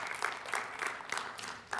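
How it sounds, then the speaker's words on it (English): Audience applause for members of the Royal Academy of Dramatic Art: a steady, close burst of many hands clapping with repeated louder swells, no voices. "So please give the members of the Royal Academy of Dramatic Art a round of applause."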